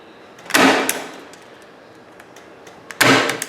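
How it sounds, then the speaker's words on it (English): Two sharp, loud staple-gun snaps, a few seconds apart, fasten screen material to a wooden window frame, with faint handling noise between them. "Now that we've got this side stapled off"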